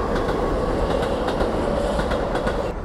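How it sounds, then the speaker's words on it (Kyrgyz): A passing train rumbles steadily with rhythmic clickety-clack from the wheels on the rails, a continuous, moderately loud roar with no voices. "наркы жака бир поезд өтүп атат."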